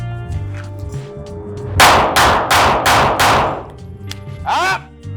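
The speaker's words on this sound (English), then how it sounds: "I'll shoot the 4-inch circle on the right" Five rapid, loud gunshots crack in quick succession from a custom SIG P365 pistol fired at a target, followed by a short metallic ring, close and sharp with no talk over them.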